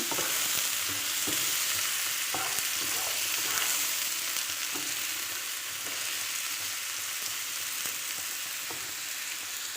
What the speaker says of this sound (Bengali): পেঁয়াজগুলো দিয়ে দিচ্ছি তেলের সাথে পেঁয়াজগুলো মিশিয়ে নেব